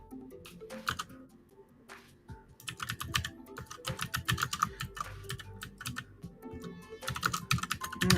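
Close, clattery typing on a computer keyboard comes in irregular bursts of rapid keystrokes with short pauses between them, alone without talk.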